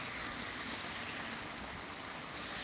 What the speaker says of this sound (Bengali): দেখতেই পাচ্ছ বৃষ্টিটা আবার শুরু হয়ে গেছে